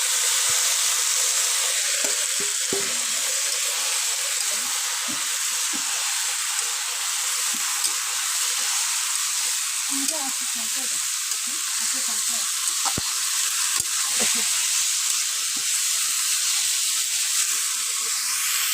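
Taro leaves (kochu shak) added bit by bit to hot mustard oil with fried garlic in a home kitchen pan, giving a steady bright sizzle with occasional stirring clatter throughout.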